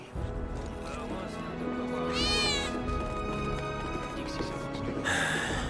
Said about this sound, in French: c'était pas un miaulement de chat à l'instant?